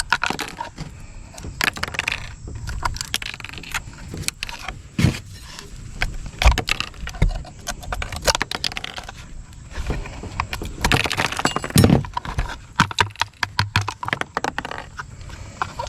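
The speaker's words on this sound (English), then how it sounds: "Get all this little glass off here." Broken glass is scraped and cleared from a Case IH 75C tractor cab window frame: irregular crunching, clinking and crackling bursts close up, continuing unevenly for about sixteen seconds without talk.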